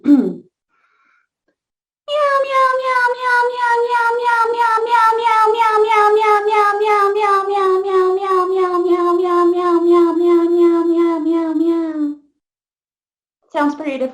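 A person's voice imitates cat meows in a long, continuous wavering wail during a voice lesson, loud and close, preceded and followed by brief silence.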